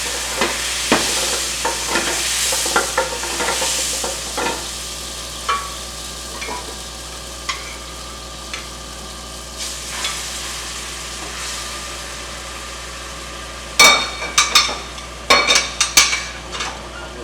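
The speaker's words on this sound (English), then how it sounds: "at this point now you deglaze" A pan deglazed for a cream sauce sizzles steadily while a utensil stirs and scrapes, with a louder burst of clattering strokes near the end.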